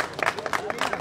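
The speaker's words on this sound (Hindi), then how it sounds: "चलिए ताली बजा दीजिए ताली बजाइए ताली बजाइए" Audience clapping at the grand opening of a music company, scattered and fairly close, building in short bursts over a steady crowd murmur with voices talking throughout.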